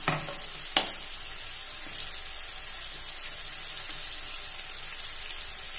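Shevai vermicelli roasting in oil in a pan: a steady, moderate crackling sizzle, with a couple of sharp utensil knocks near the start, close and without talk.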